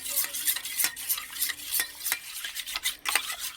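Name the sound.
beating eggs with salt and pepper in a bowl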